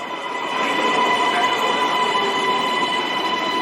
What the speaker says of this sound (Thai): นี่นะครับก็ รถไฟฟ้าครับ จากสถานีเตาปูนมาแล้วนะครับก็จะไป ที่ท่าพระนะครับ